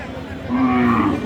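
A Sahiwal cow at a cattle market gives a single loud, close moo that swells from a low drone into a drawn-out bellow over market background noise.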